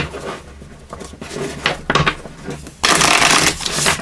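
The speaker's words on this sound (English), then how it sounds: "We'll also shuffle it 3 times" An Urban Crow Oracle card deck is shuffled by hand, with several soft riffling bursts followed by a louder, longer flurry of cards flapping together near the listener.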